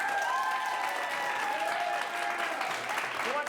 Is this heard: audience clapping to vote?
yes